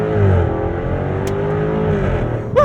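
A 2024 Jaguar F-Type R75 launching hard from a standstill in sport mode, loud engine roar climbing steadily in pitch with a brief shift break near the end, heard from inside the car.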